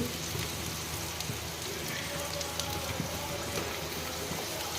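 Garlic, green chillies, dried red chillies, urad dal, carrot and tomato sauté in hot oil for carrot chutney, giving a steady, even sizzle that runs throughout with faint clinks.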